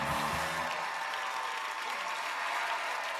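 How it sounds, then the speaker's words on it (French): A studio audience breaks into enthusiastic applause at the close of a comedy sketch, a dense, steady wash of clapping with no voices over it. "Tout ça se termine sous les applaudissements d'un public en délire"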